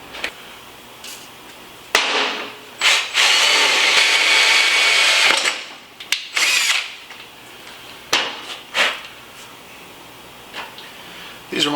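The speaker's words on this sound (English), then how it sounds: "Always use a little tiny drill bit to get your pilot hole." A power drill with a tiny bit bores a pilot hole during a Honda Shadow bobber refresh, one loud whirring run of about three seconds, followed by shorter drill bursts and clattering workshop handling, with a voice talking in between.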